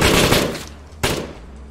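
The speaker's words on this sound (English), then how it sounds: "Oh shit, he's got a machine gun!" Machine gun fire in a video game, two loud close bursts, the first longer and the second brief, each ringing off into echo.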